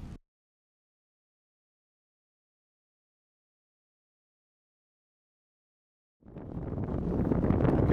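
Wind gusts across the open sand of Assateague Island's beach, buffeting the microphone in a rough, loud rush that builds over the final two seconds after a long near-silence.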